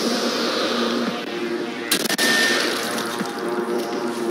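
Sniper rifle shots ring out in the Nazi Zombie shooter game Sniper Elite, a sharp crack near the middle over a steady bed of game noise and rumble.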